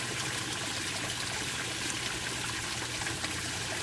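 Water from a 300-gallon tote flows through three 1-inch valves, a steady close trickling and gushing stream that runs unbroken without any talk.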